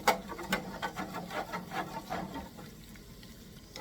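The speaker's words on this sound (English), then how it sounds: "just keep whisking continuously" A whisk scrapes and clicks rhythmically against a pan while a roux or gravy is stirred continuously for a traditional Thanksgiving meal, quick repeated strokes that fade slightly toward the end.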